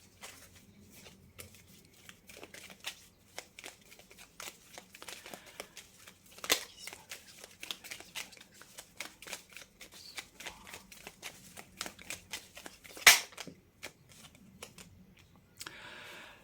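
Tarot cards are shuffled and handled close up in soft, irregular riffles and flicks, with a few sharper snaps and no talk.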